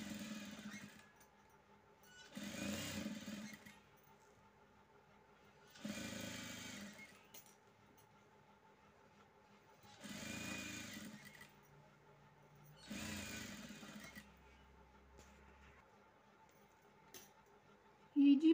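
A sewing machine runs a press seam along a blouse neckline in four short bursts of stitching with quiet pauses between them, fairly close and moderately loud.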